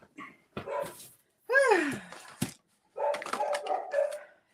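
Two dogs bark and yip at home in short bursts with a whining, whimpering tone between them, close and fairly loud, alternating with pauses of near silence.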